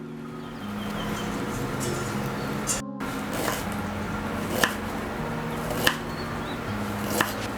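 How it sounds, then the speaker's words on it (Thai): A knife chops ginger on a board in a few sparse, sharp knocks over a steady background hum, with no voices. "นี้เราก็หั่นขิงแล้วก็เอาไปปั่นกันนะคะ"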